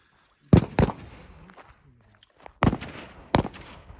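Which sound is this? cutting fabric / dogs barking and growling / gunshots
gunshots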